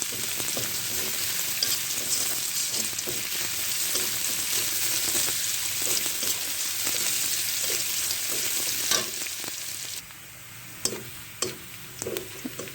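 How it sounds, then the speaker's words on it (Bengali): Onion and garlic fry gently on low heat, a soft, steady sizzle with occasional stirring clicks, heard alone without talk. "পেঁয়াজ রসুন হালকা আঁচে ভেজে নিতে হবে।"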